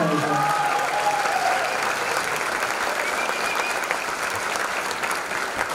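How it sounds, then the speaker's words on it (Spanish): Sustained applause from a dance show audience for the director's mother, a dense, steady wash of clapping that fills the clip at an even level, with a few faint voices and whistles mixed in. "un fuerte aplauso para ella"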